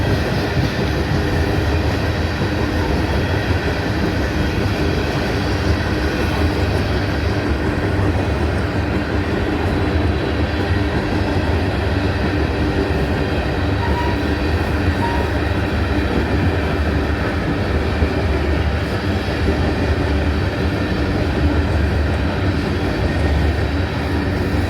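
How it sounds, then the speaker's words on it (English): A westbound train runs from Greenwood toward Atlanta, passing below a hill. Its steady, continuous rail rumble fills the whole stretch at an even level, with faint wheel clatter mixed in. "This train is going up here right now."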